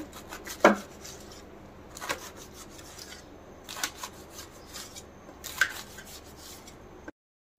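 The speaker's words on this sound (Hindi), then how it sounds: "अब एक चाकू की मदद से हम इसे ऐसे गोल गोल काट लेंगे" A knife cuts rolled arbi (taro) leaves into rounds on a board, giving a handful of separate soft thuds and scraping slices, close and fairly quiet, with no talking.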